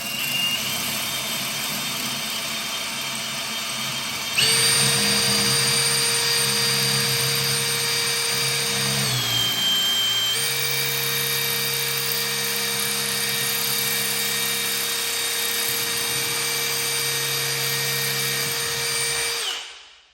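A Milwaukee drill on high speed 2, in drill mode rather than hammer mode, boring into cured material: a loud, steady motor whine held for about fifteen seconds, pitch dipping briefly under load midway, then spinning down at the end.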